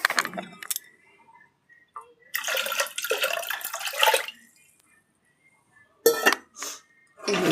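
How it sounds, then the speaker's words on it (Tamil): Water is poured from a tumbler into a pressure cooker while rice is being cooked. It comes as a few short, splashy bursts with quiet gaps between them. "இப்போ இது 2வது டம்ளர் தண்ணி."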